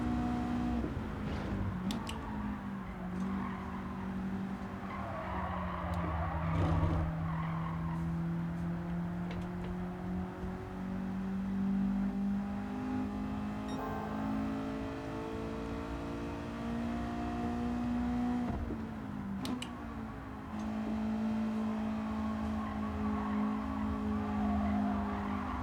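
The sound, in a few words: race car skidding and revving in Gran Turismo 7 video game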